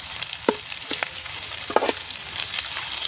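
Leftover rice mixed with chilli powder, coriander powder and salt is stirred in a pan, giving a soft continuous sizzle with scattered scraping clicks from the spoon, close and alone.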